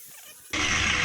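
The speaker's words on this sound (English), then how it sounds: "So I'll get the angle grinder going." An angle grinder cutting a shower rail starts abruptly after a quiet moment, then holds a loud, bright, steady high-pitched whine of the abrasive disc against metal.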